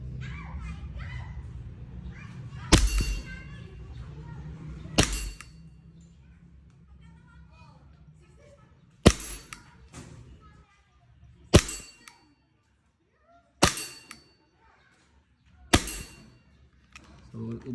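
A WE G17 airsoft pistol fires six sharp, loud single shots spaced a couple of seconds apart, each a crisp snap, with voices and children's chatter audible in the background between shots.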